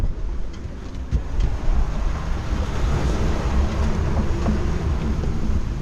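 Gusty wind at sea on a sailboat in a gale, around 18 to 23 knots, roars steadily and loudly with rushing waves beneath it. Brief louder gusts swell in and out, and no one speaks.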